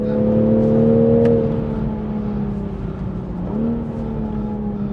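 A Toyota GR Supra A91 edition carries speed around a track sweeper at about 160 km/h, its engine droning loud and steady from inside the cabin, the pitch easing slightly then rising again as it pulls through the corner.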